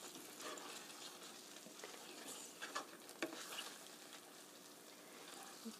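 Tofu in cream sauce simmers quietly in a pan, a soft continuous bubbling and sizzle with small pops and a faint stir now and then.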